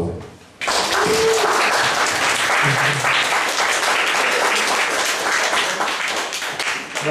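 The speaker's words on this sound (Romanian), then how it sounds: "Aplauze." An audience bursts into sustained applause for a poet at a literary event, the clapping starting abruptly after a brief pause and holding steady and loud for several seconds before thinning slightly at the end.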